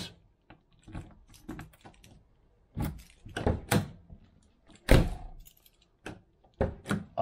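The door lock plunger of a Range Rover Classic with a broken spring clicks and thunks several times, in short, sharp, close-up mechanical knocks separated by quiet gaps.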